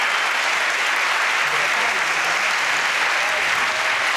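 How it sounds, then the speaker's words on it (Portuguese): Audience and conductor applauding a philharmonic orchestra after a symphony concert, dense and loud sustained clapping from a large hall crowd, even throughout with no break. "O público e o maestro aplaudem a orquestra."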